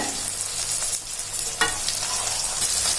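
Brinjal sautés in hot oil with onion and garlic in a continuous close sizzle, with a few soft stirring scrapes rising through it.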